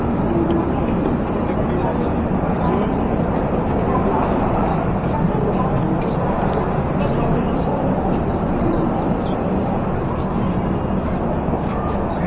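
A crowded train at Jammu Tawi station rumbles with a continuous loud, dense mechanical drone, and a crowd's murmur blends into the steady noise.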